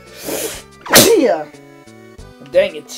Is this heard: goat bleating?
no